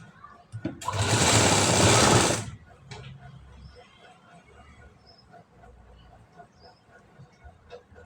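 A sewing machine stitches a high-neck blouse in a short, loud, steady whirring burst of about a second and a half. Quiet handling noises and a few faint clicks follow.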